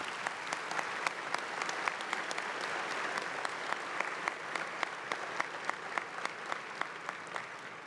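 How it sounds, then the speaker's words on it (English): Applause for Jane Somerville at the WCPCCS 2023 opening ceremony, a continuous patter of hand claps from a hall audience with a few sharper nearby claps standing out, fairly quiet and unbroken by talk. "I'd like to ask everybody to give a round of applause for Jane Somerville."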